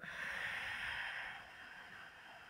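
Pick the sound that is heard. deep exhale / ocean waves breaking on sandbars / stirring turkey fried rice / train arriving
deep exhale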